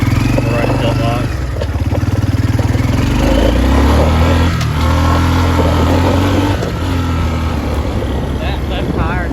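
A 1986 Kawasaki Bayou 300 ATV engine, low on oil and starting to lock up, runs loud and steady at speed, with a rough droning tone throughout and wind noise over it.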